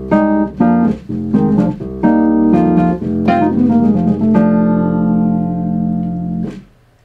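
A Nord Stage 2 Wurlitzer electric piano with tremolo, drive and reverb plays a run of struck chords and notes, loud and steady, before settling into a long held chord that fades out.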